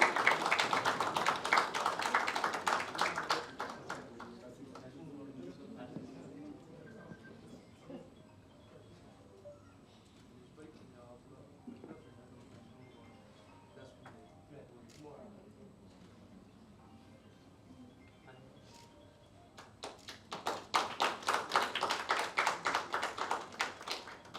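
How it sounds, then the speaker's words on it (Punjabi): Audience applause at a Punjabi film press conference: a loud burst of many hands clapping at the start, dying down to quieter scattered sounds in the middle, then another strong round of clapping near the end. "ਜ਼ੋਰਦਾਰ ਤਾਲੀਆਂ ਤਾਲੀਆਂ ਨਹੀਂ ਰੁਕਣੀਆਂ"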